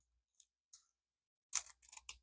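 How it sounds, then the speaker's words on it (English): Scissors snip open a plastic bag holding diamond painting kit beads: a few faint, quick cuts followed by a louder burst of crinkly snipping and rustling, with no talking. "So we're going to cut open this bag."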